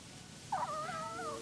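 A single short cat meow sounds in the game Where Winds Meet, a brief rising-then-falling cry over a quiet background.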